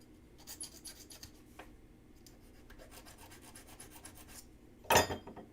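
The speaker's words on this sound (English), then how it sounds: "Do a little bit of filing here. Okay, just to take off the burr" A hand file takes the burr off a metal part on a workbench, giving a series of short, close rasping strokes, followed by a sharp clatter near the end.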